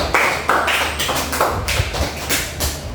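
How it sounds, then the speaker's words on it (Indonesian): A classroom group gives a short, uneven burst of applause, distinct nearby hand claps and taps landing irregularly with some dull thumps, fairly loud and close. "Tepuk tangan buat kita semua."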